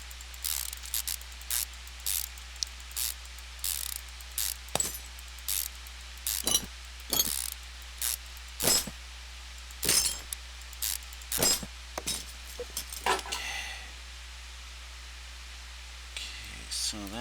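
Repeated sharp clicks and metallic ratchet-like snaps from unbolting a fuel rail in Car Mechanic Simulator 2015, spaced irregularly over a low steady hum, with a brief scraping rattle near the end.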